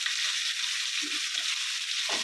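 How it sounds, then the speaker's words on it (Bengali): Pointed gourd and potato pieces frying in hot oil with a pinch of turmeric and salt, a steady close hiss of sizzling throughout, broken by a few soft stirring scrapes near the end. "এবার লাল লাল করে ভেজে নামিয়ে নেবো।"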